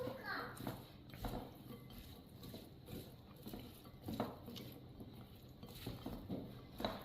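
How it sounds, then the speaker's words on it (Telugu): Salad ingredients with lemon or amchur are tossed and stirred in a bowl, giving repeated clinks and scrapes of a utensil against the dish at an uneven rhythm, with background voices partly under it. "బాగా మిక్స్ చేయాలి."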